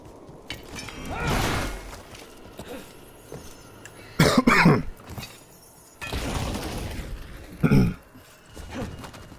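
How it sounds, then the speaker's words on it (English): Several harsh coughs burst out in separate fits, loud and close, with quieter throat sounds and room noise between them. "I will also probably apologize multiple times during this stream for the coughing and the mic."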